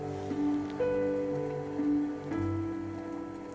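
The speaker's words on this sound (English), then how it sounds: "Rainy day." Soft rain ambience played through the speakers of a 2024 Hyundai Santa Fe Limited, with a steady wash of falling water and a low sustained tone, quiet and continuous throughout.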